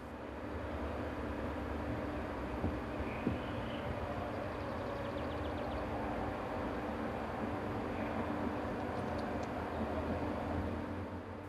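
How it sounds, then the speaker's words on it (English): A Class 425 electric multiple unit train on a regional line in Germany, giving a steady, droning rumble with low mechanical hum that holds evenly throughout, fairly close and unbroken, with no voices. "Many local services are now worked by the increasingly common Class 425 electric units"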